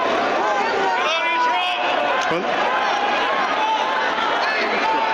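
A large crowd at a political rally shouts and yells in a loud, sustained roar of overlapping voices, with individual cries rising above the din throughout.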